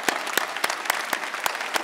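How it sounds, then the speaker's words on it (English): Sparse clapping for friends and family at an evening event, a handful of hands giving distinct, evenly spaced claps about four per second, close and moderately loud without voices. "You really deserve a round of applause,"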